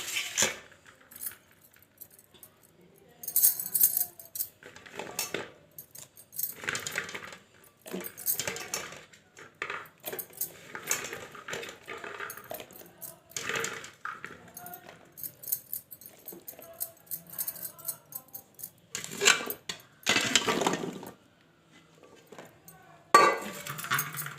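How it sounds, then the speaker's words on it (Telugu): Pieces of drumstick being stirred by hand into a mustard-fenugreek pickle masala with garlic, salt and oil in a metal bowl, producing repeated scraping clinks and rattles in irregular bursts, close and fairly loud. "ఇప్పుడు ములక్కాయ ముక్కలు వేసి దీంట్లో మనం కలుపుతాం."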